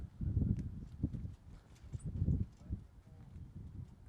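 A show jumping horse's hooves clip-clop in an irregular run of soft, thudding steps, moderately close with some faint background noise.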